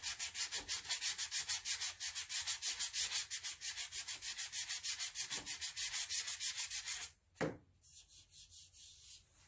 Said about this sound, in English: the putty is dry, so only thing I am going to do is sand it